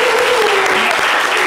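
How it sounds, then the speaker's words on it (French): A studio audience on a radio show applauds a caller in a short, loud, dense burst of clapping, with a voice briefly sounding over it. "on va t'applaudir pour ça alors"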